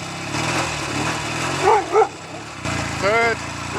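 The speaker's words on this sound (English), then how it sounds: "here comes the dog" A dog barks a few times at a passing Norton Navigator 350 motorcycle, sharp yelps over the loud, close running engine, which revs up again afterward.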